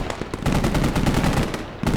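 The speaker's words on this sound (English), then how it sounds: "We also have a heavy machine gun there on our right side, shooting at the enemies." Heavy machine gun in a military video game firing a sustained burst at enemies, dense rapid reports filling nearly the whole two seconds, loud and close with no talk over it.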